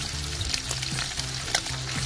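Dried pangasius fish fries in a pan with a continuous close sizzle, broken by occasional scraping clicks from stirring or turning. No talking.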